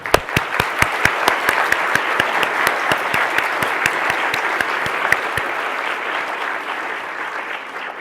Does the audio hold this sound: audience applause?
yes